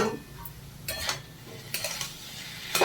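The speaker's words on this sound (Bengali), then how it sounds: "একটু নাড়িয়ে নেব" A spoon scrapes and clinks against a pot while vegetarian banana stem curry with potato is stirred, giving a few separate bursts of metallic scraping over a low background, with no talking.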